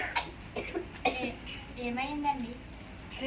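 A man who has been ill and weak for two days coughs in short, sharp bursts during a college student skit, mixed with nearby voices talking.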